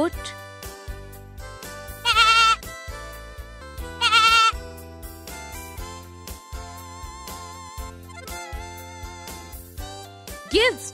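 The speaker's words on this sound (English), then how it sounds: "Goat." A goat bleats twice in loud, bright bursts over steady background music, with quieter pauses between the calls.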